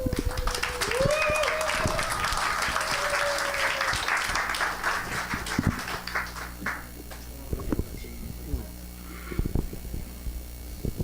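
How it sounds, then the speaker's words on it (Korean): At a fan club year-end concert in Tongyeong, an audience applauds to welcome the incoming club president, with loud, steady clapping under a speaker's voice that thins to scattered claps. "여러분 박수로 좀 환영해 주세요"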